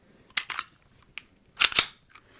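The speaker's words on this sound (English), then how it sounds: "Insert the weapon. It should fire." Hi-Point CF380 pistol dry-fired during a function test: a few sharp mechanical clicks and clacks from the action and trigger, close and fairly loud, in two short clusters with quiet gaps between.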